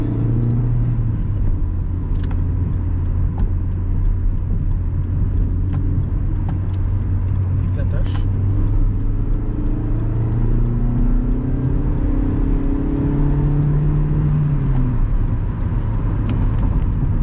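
A 2003 Chrysler PT Cruiser with a 2-litre 140 hp petrol engine accelerates through the gears, a steady loud engine drone with rising and falling tones and shifts, heard from inside the car.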